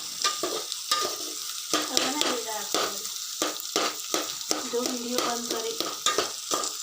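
Turmeric root curry frying in oil in a home kitchen, stirred with repeated rhythmic scraping and spatula knocks over a constant sizzle, close by, with brief murmured voices now and then.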